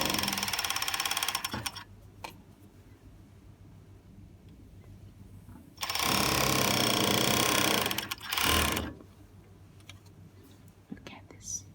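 A sewing machine stitches fabric for a knot pillow in two short bursts of rapid, rattling mechanical running, separated by quieter stretches of faint handling noise.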